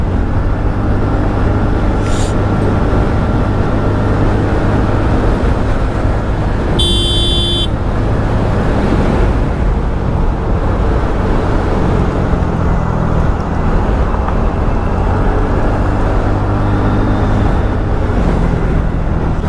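Dense road traffic in Chandigarh heard from a moving scooter, a constant loud roar of engines and wind with a sharp horn toot partway through and faint honks elsewhere.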